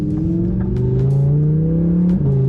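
An Audi R8 engine hums and revs steadily at close range, with a faint rattle coming through the drone.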